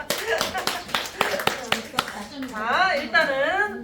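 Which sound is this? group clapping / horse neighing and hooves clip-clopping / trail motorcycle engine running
group clapping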